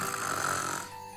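A cartoon character snores with a single long, raspy breath, loud and close, fading at the end, in a Lalaloopsy cartoon for kids.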